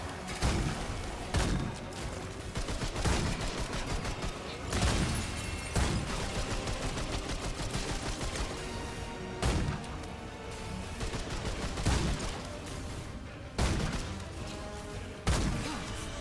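Gunfire in a video game: repeated heavy shots and impacts land in bursts every second or so over a dense, loud mix of game music and effects.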